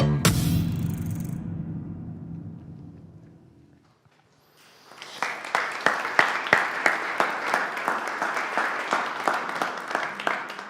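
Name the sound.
computer-generated applause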